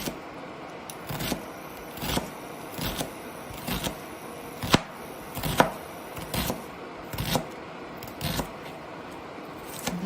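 A knife chopping onion on a cutting board in a home kitchen, about a dozen crisp, evenly spaced chops in a steady rhythm, close and fairly loud over a quiet background hum.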